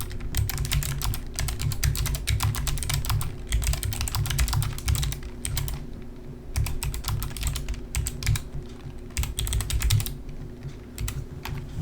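Steady, fast typing on a computer keyboard while entering a name for a saved Google Earth Pro tour, with brief pauses between bursts of keystrokes over a low background hum.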